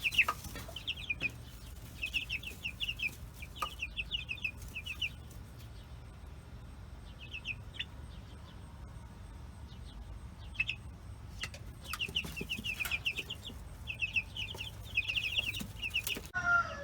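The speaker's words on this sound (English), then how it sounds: "So that kind of gives you an idea just how much growth the chicks have gotten" Young backyard chickens cluck and chirp in the garden, coming in repeated bursts and short runs with brief pauses between them, moderately close over a steady low outdoor rumble, with no talking.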